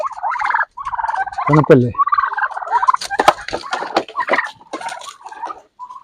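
Backyard chickens gather for chopped banana-stem feed during hot-weather care, giving repeated close, loud clucks and squawks in quick bursts, with a brief human voice among them.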